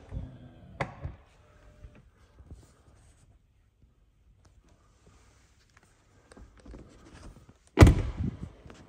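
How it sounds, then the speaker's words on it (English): Soft-closing door on a 2022 Land Rover Range Rover 5.0 V8 supercharged P565 SVAutobiography Dynamic: a quiet early thunk, a long hush, then a firmer muffled closing thud near the end. "Soft closed doors, as I said."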